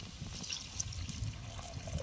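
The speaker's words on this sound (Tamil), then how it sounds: "கொஞ்சமாக தண்ணி ஊற்றிக்கலாம்" Water trickles and splashes quietly into a cooking pan of brain and egg, a soft steady liquid sound with faint dripping, no talking.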